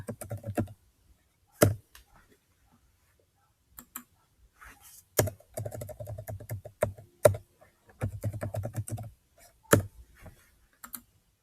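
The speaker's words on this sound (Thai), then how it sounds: "ในเอกสารนี้เราก็พิมพ์งานได้ตามปกตินะคะ" Bursts of keyboard typing on a computer, quick clicky keystrokes in short runs separated by quiet pauses, close and fairly crisp.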